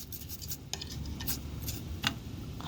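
Rice fries in a pot while a utensil stirs it, giving a low sizzle under light metallic scrapes and a few clinks against the pot, fairly quiet and close.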